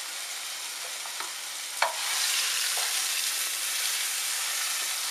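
Pork tenderloin searing in a hot pan, a steady bright sizzle that swells slightly after a sharp contact tick, continuous and close with no talking.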